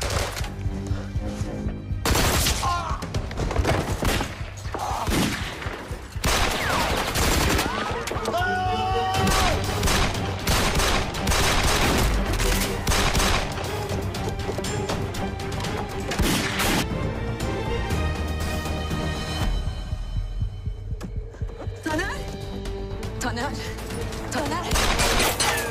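Gunfire erupts in a Turkish TV drama scene, dense bursts of shots and crashing impacts over a constant backdrop of intense action sound, with shouting voices mixed in.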